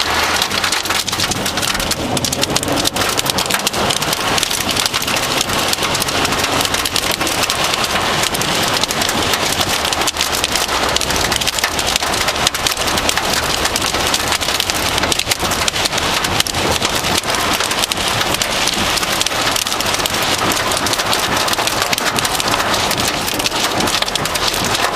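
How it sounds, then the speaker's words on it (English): Heavy rain pours steadily during a thunderstorm, a dense, loud hiss of drops hitting surfaces with strong wind mixed in, continuous throughout with no voices. "Yeah, these winds are really howling. Look at the rain running over there."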